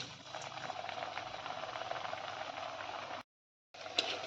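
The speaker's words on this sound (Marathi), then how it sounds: "शेंगदाणा तेल मी तापवण्यासाठी ठेवून दिलेलं होतं आता मी त्यात पुरी टाकते" Puri frying in hot peanut oil gives a steady, dense crackling sizzle for about three seconds, a short silent gap, then the bubbling resumes with a small pop.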